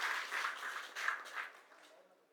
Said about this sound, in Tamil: இந்த நேரத்தில் அவங்க 2 பேருக்குமே நம்மளோட கரகோஷத்தையும் வெளிப்படுத்தணும்